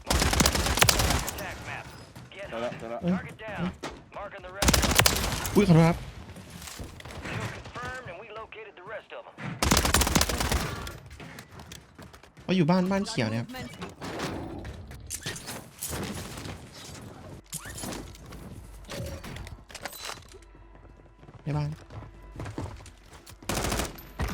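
Repeated bursts of Warzone gunfire from an MTZ-762 rifle, sharp and loud, with rapid automatic volleys separated by pauses, explosions, and some voice between shots.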